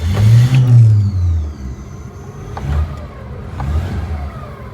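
A 1954 Chevrolet with a newly installed starter fires up and runs, opening with a loud close engine rumble that settles into a steadier idle with small revs, and no talking.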